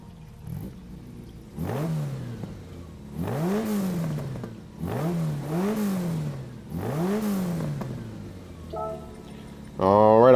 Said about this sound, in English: I'll click on it, we'll listen to the startup sound